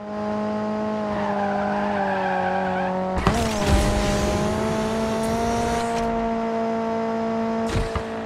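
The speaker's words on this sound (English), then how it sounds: "Nice drift." Tires squeal steadily as a car drifts through a corner in the Need For Speed Mobile racing game, the engine droning beneath, with a sharp burst of skidding noise partway through and a brief scrape near the end.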